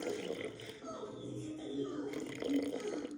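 Filtered water pours quietly from a small cup into a sourdough starter, a soft, faint trickle of liquid lasting a few seconds.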